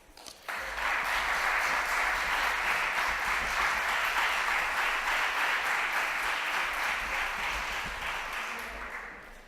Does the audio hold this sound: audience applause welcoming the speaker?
yes